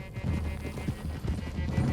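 Horses galloping in Red Dead Redemption 2, a steady close clip-clop of hooves with a low rumble throughout, a faint voice-like murmur underneath.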